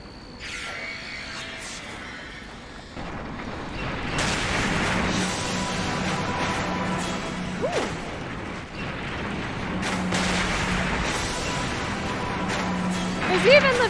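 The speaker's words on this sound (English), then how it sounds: "We deploy their new siege weapon just in time for Major Argon's birth" Siege weapon firing in the video game Tera, heavy booming blasts and crashing bursts repeating over a sustained mechanical rumble, loud and close.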